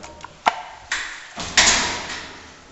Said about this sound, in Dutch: Ga ik even een deurtje open doen